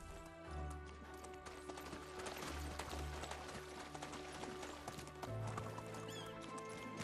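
Horse hooves clip-clop steadily in the video game Medieval Dynasty as a fast horse travels, a quick even rhythm at moderate level over a bed of soft game music.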